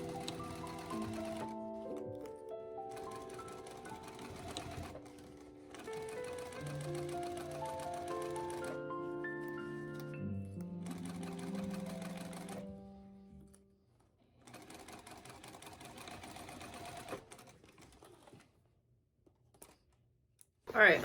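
A sewing machine runs in bursts of rapid, even stitching on a crossbody bag, with short pauses between runs and a few clicks near the end, and no talking.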